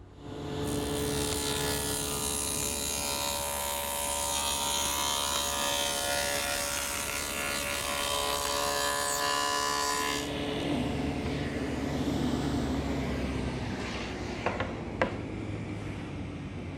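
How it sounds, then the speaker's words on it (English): A table saw cutting rabbets into 3/4 inch MDO gives off a loud, steady motor whine with a rasping cut that runs continuously for about ten seconds. The blade then spins down over a long tail. "I've set up at the table saw to do that"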